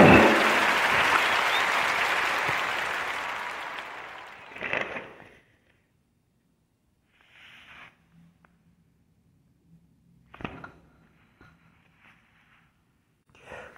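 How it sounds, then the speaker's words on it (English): A round of applause on a podcast: several seconds of dense clapping that cuts off, then near-silence broken by a few quiet rustles, a sigh and small handling noises. "a warm narrative podcast round of applause for her greeting card line, Miss James."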